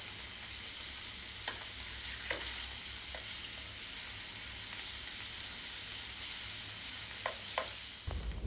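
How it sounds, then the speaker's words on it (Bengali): Salted hilsa fish pieces fry in hot oil with a steady, dense sizzle throughout, broken by a few faint clinks and scrapes of a utensil turning the fish. "তারপর তেল গরম হয়ে আসলে যে মাছগুলো কেটে রেখেছিলাম সেইগুলোকে হচ্ছে এখন ভেজে নিব।"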